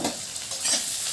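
Egg bhujia sizzles in a frying pan as a utensil stirs and scrapes through it, a close, steady hiss with soft scraping and no voices.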